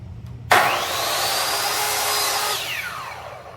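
A power saw bites into a wooden pole being cut flat for a shelf spindle. It starts abruptly, screams steadily through the cut for about two seconds, then winds down as the blade spins to a stop.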